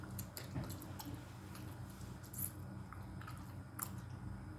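Bubblegum is chewed close to the mic in ASMR style, with soft wet squishes and small crunchy bites repeating irregularly over a low background hum.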